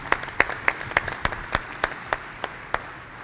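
A small audience claps in a sparse, uneven patter for a few seconds, welcoming a reverend to speak at a church synod visioning presentation.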